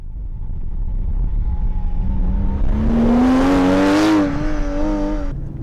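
A Porsche Cayenne GTS with a 4.8-litre V-8 accelerating hard on a race track, its engine note rising steadily in pitch to a loud, close, strained peak before easing off slightly.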